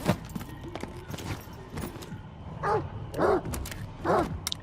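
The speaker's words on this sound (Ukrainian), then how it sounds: "Ще песики якісь взялися, чую, гавкають" Dogs bark several times in the STALKER 2 video game, short distinct yelps spaced out over a backdrop of game noise and clatter, with speech briefly audible.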